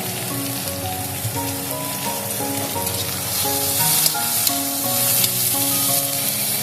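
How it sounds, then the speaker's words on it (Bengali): Onions fry in oil with a little salt, a continuous close sizzle that grows a bit louder partway through, with light crackles and faint music underneath, and no talking. "পেঁয়াজটাকে আমি একদম লাল লাল করে ভেজে নেব।"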